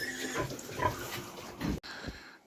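Pigs penned together in one enclosure grunt and snuffle close by in a steady, irregular stream of low grunts, with a brief clatter near the end.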